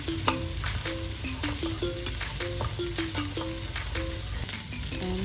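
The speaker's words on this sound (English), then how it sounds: "Here I'm gonna add the cow liver that I boiled earlier. So I'm gonna mix, stir fry together." Boiled cow liver being stir-fried with rice in a pan for Nigerian fried rice: a steady, close sizzle with repeated scraping and stirring strokes, with no voices.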